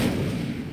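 Incendio fire spell cast in Hogwarts Legacy, a single loud, dense fiery burst with a heavy low thump that fades slightly over under a second, with no voices.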